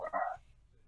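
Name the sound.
dog barking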